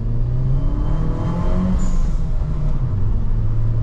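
Citroen DS3 THP turbo car engine hums and revs steadily while driving, a loud, continuous low drone heard from inside the car, with no talking.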